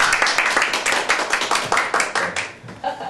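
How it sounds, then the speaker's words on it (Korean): Audience applauding to welcome the lead actor of a film at a screening event about migrant workers' lives, steady close clapping for about three seconds. "박수로 맞으시면"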